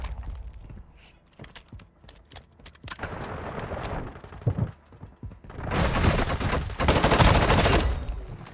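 Automatic gunfire and shots ring out in the mobile shooter game Warzone Mobile, scattered bursts and sharp reports early on building to sustained loud fusillades toward the end, with no talking over it.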